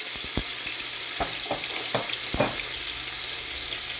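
Tomatoes and peppers saute in a hot saucepan with a steady, close sizzle, broken by a few sharp clicks and taps of a utensil against the pan.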